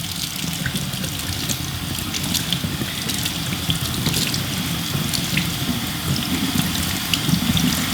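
A soapy cold air intake filter is rinsed and turned under a running faucet, giving a close, continuous splashing water stream with irregular spatters and gurgles throughout.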